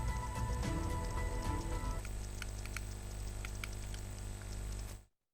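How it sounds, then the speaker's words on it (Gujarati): Monsoon rain falls in Vadodara city, a steady hiss of drops on surfaces with a low hum beneath, continuous for several seconds before cutting off abruptly. "વડોદરા શહેરમાં છેલ્લા 2 દિવસથી વરસાદ વરસી રહ્યો છે."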